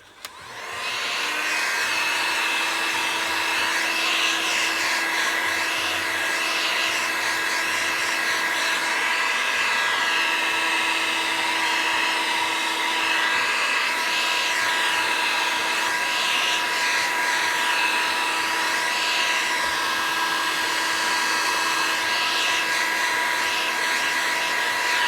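A hair dryer blows steadily and loudly for the whole stretch, drying a Halloween mixed media art page, with a constant whirring airflow and no talking.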